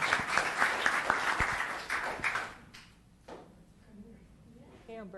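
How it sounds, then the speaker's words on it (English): A round of applause at a Los Gatos town council meeting, clapping loud for about two and a half seconds, then fading to scattered claps as a voice begins speaking. "Round of applause."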